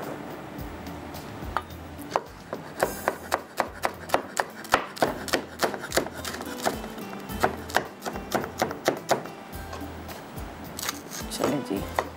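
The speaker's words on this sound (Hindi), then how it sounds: "हरी मिर्च को बिल्कुल बारीक आपने चॉप कर लेना," A knife finely chops green chillies on a board, close up, in a quick steady rhythm of sharp taps that pauses briefly and resumes.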